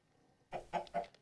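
Chickens in the Minecraft Crazy Craft modded game give three quick, close clucks in a row after a brief quiet moment.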